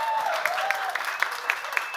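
An audience at a live radio-hour show applauds, a dense patter of clapping with sharper individual claps standing out, while a voice talks over it.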